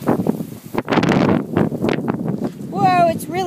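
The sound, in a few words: strong wind outdoors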